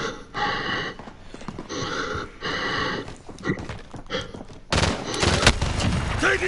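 Gunshots in a video game battle, loud bursts of fire in several clusters with a heavy broadband barrage in the last seconds, close and dense with no talk over them.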